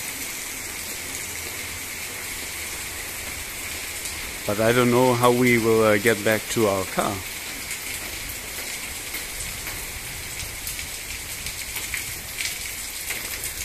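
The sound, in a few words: heavy rain in Rethymno, Crete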